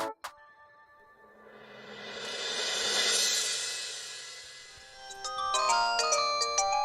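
A cartoon phone ringtone rises as a swelling electronic tone, then breaks into a bright chiming melody of quick repeated notes, clear and alone with no talk.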